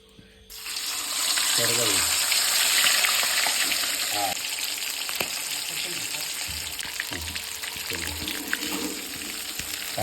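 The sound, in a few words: fish frying in a pan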